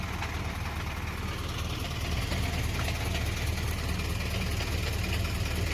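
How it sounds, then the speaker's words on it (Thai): A six-wheel dump truck spreading rock for a road runs its engine at a steady idle-like rumble with gearbox whine, a constant low drone that swells slightly partway through, with no talking. "เสียงเกียร์บอก"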